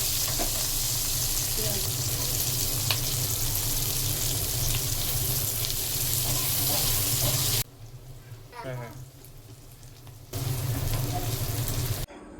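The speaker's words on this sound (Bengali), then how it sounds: "এখন এই পর্যায়ে আমি আরেকটি প্যানে নতুন করে তেল দিয়ে পরিমাণ মতো পেঁয়াজ কুচি দিয়ে ভেজে নিব।" Chopped onions fry in hot oil in a pan for a chicken and bamboo shoot curry, giving a steady loud close sizzle that drops away abruptly for a few seconds before resuming.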